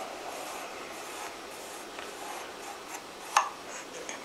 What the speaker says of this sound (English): stroke it forward, lay it on the other side, same angle you've been using all along, stroke it back